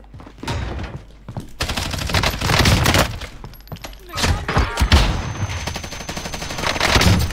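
Rapid gunfire bursts from a Warzone match, with loud repeated shots and thuds crowding most of the stretch, rising and falling in clusters amid game noise.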